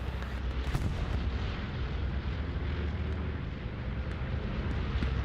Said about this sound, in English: a bombing run here for the 79th appears to be coming in